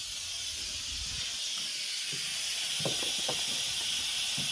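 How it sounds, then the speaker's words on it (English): A pressure cooker vents steam in a quick release, producing a loud, continuous close-up hiss with a few faint knocks and clicks underneath. "You're just going to want to release the steam quickly."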